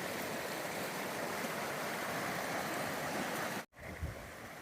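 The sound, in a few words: fast-flowing stream water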